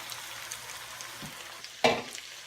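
Browned meat with a sprinkled spice mix sizzles in a pan for bolognese, a steady soft frying hiss with a sharp scrape and burst of sizzle as it is stirred near the end.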